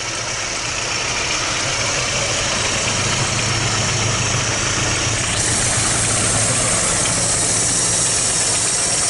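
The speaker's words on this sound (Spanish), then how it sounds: "Suena muy suave el coche." A 1991 SEAT Málaga 1.5 with Porsche-designed injection, about 136,000 on the odometer, idles smoothly and steadily, a close, even mechanical hum with a slight rise in brightness partway through.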